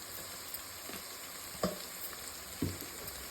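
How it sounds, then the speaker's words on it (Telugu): Ginger garlic paste and turmeric fry in a pan for a tomato brinjal curry, a steady soft sizzle with a few light stirring knocks and no talk. "నేను ముందే దంచి పెట్టుకున్న అల్లం వెల్లుల్లి పేస్ట్ వేసేసుకుంటున్నా కొద్దిగా పసుపు"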